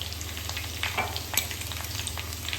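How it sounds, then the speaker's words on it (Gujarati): Curry leaves sizzling in hot oil while green corn chevdo is prepared, a steady frying hiss with a sharp crackle near the middle, close up and without talk. "મીઠા લીમડાના પાન એડ કરી લીધા છે આપણે."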